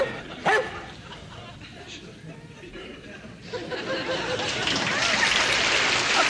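A dog barks sharply once near the start, and lively chatter and voices then build up and run over the rest.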